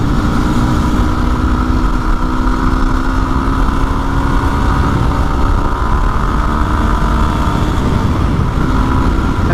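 A Yamaha WR250R motorcycle engine runs steadily while riding over loose mud, a continuous close engine drone with no talk.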